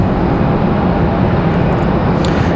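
A Delta Airbus A320-200 airliner at Raleigh-Durham International Airport makes a steady, loud, broadband jet roar, close and continuous throughout with no voices.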